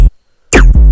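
A resampled synthesized bass sound plays in two loud, punchy bursts separated by a short silent gap, full and buzzy with strong low end.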